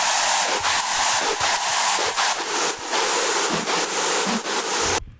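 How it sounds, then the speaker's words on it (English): Two layered synthesizer screeches play together on an electronic drop melody, harsh, bright and noisy, pulsing in short stuttering bursts before cutting off abruptly. "So now these 2 screeches playing together on the actual drop melody here of the screeches"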